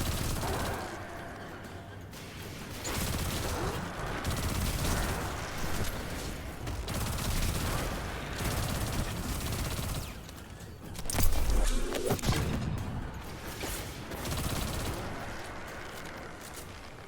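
Submachine gun fire in Destiny 2 rattles in sustained rapid bursts over dense game sound, fairly loud and steady for most of the stretch, with a sharp blast around the middle.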